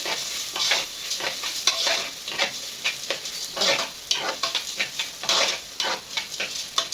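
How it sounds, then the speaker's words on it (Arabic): Rice frying in oil in a pan is stirred with a spoon, giving repeated close scraping strokes over a soft steady sizzle, with no talking. "وهبدا برضو اقلب كده"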